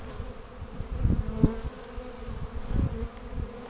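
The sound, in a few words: bees buzzing at a beehive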